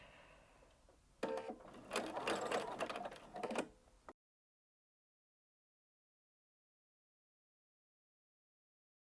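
A sewing machine stitching shirring along a shirt cuff runs in a steady, fast mechanical whir for a few seconds, close by, then stops abruptly into silence.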